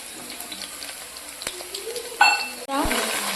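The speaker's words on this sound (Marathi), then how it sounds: "लसणाचे मस्त असे बारीक बारीक तुकडे करून घेतले आहे आणि तेलामध्ये त्याला थोडे फ्राय होतील" Finely chopped garlic and cumin seeds fry in hot oil with a soft, continuous sizzle, broken by a few clinks and a louder burst of crackling near the end, while a voice talks over it.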